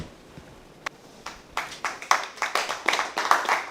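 Hands clapping, starting with a few scattered claps and building into steady, fairly close applause from a small group.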